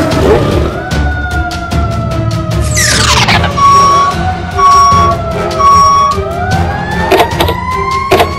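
A wailing siren rises and falls alongside a steady high two-tone beeping, with a passing vehicle's pitch sweeping down; loud and continuous, no talk.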